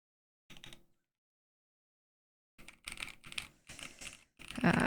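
Quick bursts of typing on a Cyberboard Terminal keyboard with tactile switches, one short flurry, a pause, then several clacky clusters of keystrokes up close and fairly quiet, with no talking.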